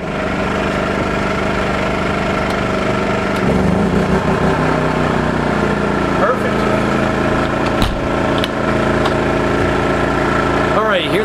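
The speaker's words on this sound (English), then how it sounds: "You hear the generator rev up a little bit" A portable generator powering an air conditioner for truck camping runs loudly and close, its engine rising slightly in pitch as the load comes on, with a few clicks and knocks over the steady drone.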